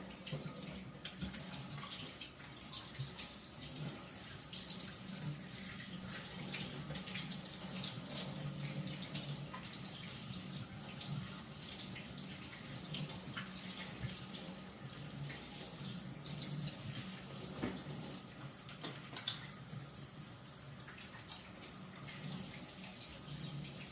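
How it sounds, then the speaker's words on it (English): Water running steadily from a kitchen tap while hands are washed during bread baking, a quiet continuous splash into the sink with small fluctuations as hands move under the stream. "let me wash this off my hands."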